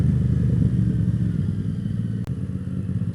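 Yamaha MT-07 motorcycle engine running steadily while riding through narrow enclosed streets, a close, constant low rumble with a brief click partway through.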